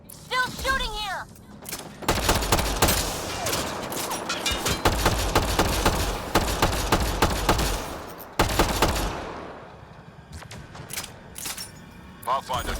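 Gunfire in Mass Effect: Andromeda rattles in dense bursts of rapid shots, loud and close, with short pauses and a voice speaking briefly at the start.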